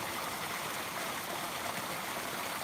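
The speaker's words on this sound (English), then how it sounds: "But this is a nice little stunning waterfall, this one." Small waterfall pouring steadily over rocks outdoors, a continuous broadband rush of water that stays even and fairly close throughout, with no voices.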